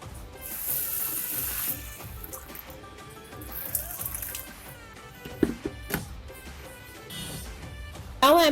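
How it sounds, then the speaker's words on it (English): Hot water poured from a kettle or pot into a bowl of fried moong dal for bhoger khichuri, a steady splashing fill under a bed of background music with a few sharp clinks near the end. "I'll be adding the hot water"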